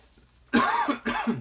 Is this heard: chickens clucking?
no